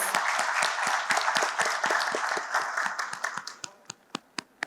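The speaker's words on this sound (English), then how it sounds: "Please join me in welcoming him with a round of applause." Applause from a small crowd, steady clapping that thins out toward the end into a few scattered, distinct claps.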